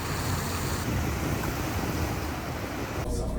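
A river flowing through Innsbruck, an Alpine town, gives a steady, loud broadband rush of water that holds evenly throughout, with wind-like noise over it and a brief change near the end.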